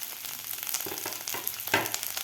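Vegetables, including frozen peas, sauté over a high flame for a restaurant-style veg Kolhapuri, giving a close, steady sizzle broken by scattered stirring clatter with one sharper scrape near the end.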